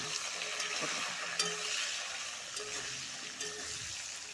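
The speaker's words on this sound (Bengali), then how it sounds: "ভালো করে ভেজে নিব" Pointed gourd (potol) frying in a pan over medium heat with salt, a close, steady hissing sizzle broken by intermittent spatula scrapes and stirs.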